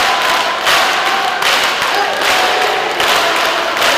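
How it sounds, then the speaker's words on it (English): A basketball arena crowd at a playoff game roars loudly and continuously, swelling in waves of cheering with scattered shouts and claps during a close call under review. "we can see and hear the crowd"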